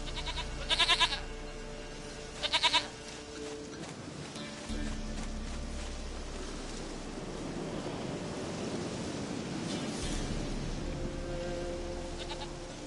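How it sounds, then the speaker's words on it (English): Goat bleats in The Witcher 3: Wild Hunt, two short, close cries in quick succession near the start, followed by steady outdoor game ambience with a low rumble and no talking. "Goat of mine, dearest, sweetest goat."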